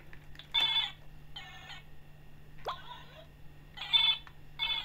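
Toy phone with a faulty battery making electronic beeping and tone bursts in short repeated bursts, with gaps between, a steady hum underneath.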